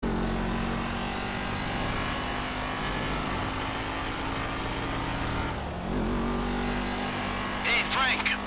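Cars in GTA V drive with a continuous engine drone and road rumble, holding steady with a slight dip midway, while voices talk over the game sound.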